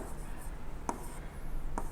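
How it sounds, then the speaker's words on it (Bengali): Marker or chalk writing on a board during a physics lecture, faint scratching strokes with a couple of light taps, close and quiet in a room with no talk over it. "আমি একটু লিখি"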